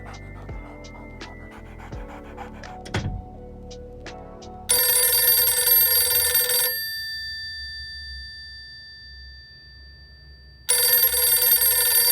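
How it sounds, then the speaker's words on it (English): A telephone rings in two loud bursts of electronic trilling, the first lasting about two seconds and the second starting after a quiet pause, following softer household sounds and a brief thump. "Ringle, ringle, little phone, leave a message at the tone."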